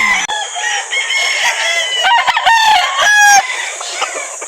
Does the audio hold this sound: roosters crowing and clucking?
yes